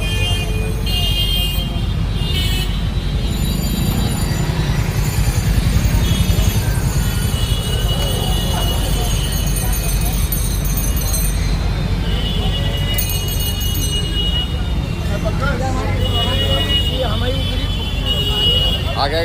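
A busy road in front of the Kashi Vishwanath temple in Varanasi carries a constant loud wash of traffic, with engines and repeated horn toots from nearby vehicles. People talk over it.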